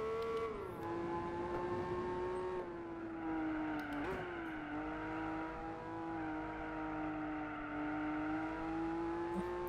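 In Gran Turismo 4, a racing car engine holds a loud, steady high-pitched drone, dipping briefly with gear changes before climbing again, continuous throughout with no talk over it.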